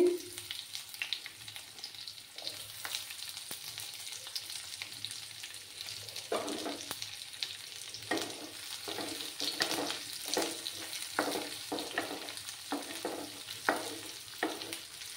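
Chopped onions and whole cumin seeds fry in hot oil with a steady, close sizzle, broken by repeated scraping stir strokes that grow more frequent toward the end.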